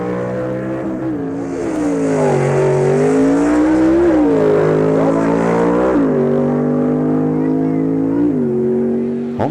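1960s drag racing at Tri-Cities Dragway, Frank Heeman's wild Anglia with a loud revving engine whose pitch climbs and drops in repeated surges, close and strong throughout.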